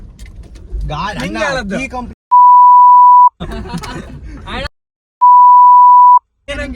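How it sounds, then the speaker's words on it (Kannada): Two loud, steady censor beeps, each about a second long, are edited over a Kannada travel vlog shot on a trip to Bhatkal. Each beep cuts in right after a stretch of people talking, and the talk resumes after each one. "ನಾನು ಬೀಪ್ ಸೌಂಡ್ ಹಾಕಿರ್ತೆ"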